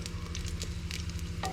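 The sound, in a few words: half-cut onion frying in hot oil in a pot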